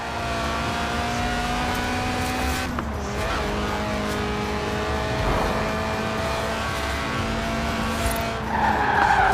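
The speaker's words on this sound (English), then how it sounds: "The trick with drifting is to not actually spin, but to almost spin for as long as possible." A Lotus Elise Sport 190 slides through a long drift in Forza Horizon 4, tires squealing continuously over a loud, steady engine drone, with brief shifts in pitch and a sharper squeal near the end.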